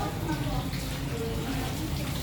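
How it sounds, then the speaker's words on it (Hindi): Water runs steadily as feet are washed for wudu, a continuous splashing stream close by, with someone talking over it. "और अब आया वुजू के और 3 मरतबा दोनों पाँव अपनी धोना।"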